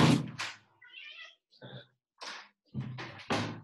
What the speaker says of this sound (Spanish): hay un gatito pidiendo atención